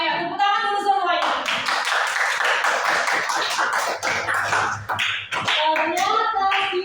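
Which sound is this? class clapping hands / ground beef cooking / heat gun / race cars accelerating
class clapping hands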